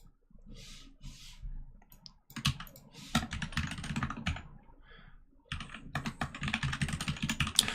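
Computer keyboard typing during a live coding session, rapid uneven bursts of clicking keystrokes, close and fairly loud, with short pauses between runs and no talking.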